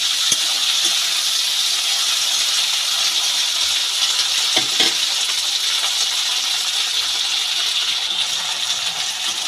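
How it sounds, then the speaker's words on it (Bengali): Flat beans with slit green chillies fry in oil for a Bengali shim bhaja, giving a loud, continuous hissing sizzle that stays even throughout, with a couple of faint knocks and no talk. "সিমগুলোকে ভালো করে তেলের মধ্যে নেড়ে ফেলে নেব"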